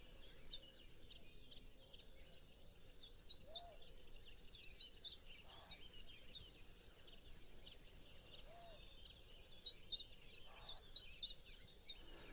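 A song thrush sings outdoors in short, repeated high phrases with brief pauses between them, fairly faint and distant over quiet background ambience.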